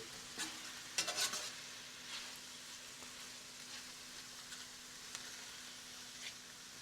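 Red and white onions cooking together with mushrooms in a pan, a faint steady sizzle broken by occasional scrapes and a brief louder clatter near the start, heard alone without speech.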